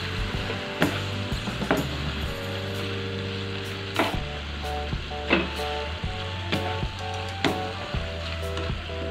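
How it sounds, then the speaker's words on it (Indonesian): Shrimp are stirred into sizzling Padang sauce spices in a pan, a steady frying hiss broken by regular clacks of a spatula against the pan, close and fairly loud, with no talking. "Aduk ya semuanya sampai tercampur rata dengan bumbu."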